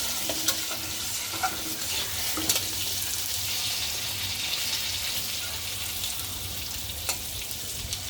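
Potatoes and taro with turmeric fry in a pan, making a continuous close sizzle with a few soft stirring knocks and no talking.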